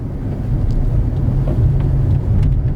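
Car driving along Ziębicka Street in Wrocław on a driving exam route, a steady low engine and road rumble continuing throughout, close and fairly loud with no talk.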